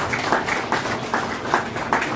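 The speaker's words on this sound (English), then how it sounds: "Please a round of applause for the chairman." An audience claps for the chairman at a laboratory complex commissioning ceremony, a short, fairly light patter of hands with periodic louder bursts, and no talking over it.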